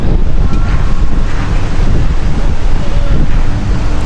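Cold wind blowing hard across a mountain lookout at Ba Na Hills, a loud constant roar buffeting the microphone for the whole stretch, with a low rumble underneath.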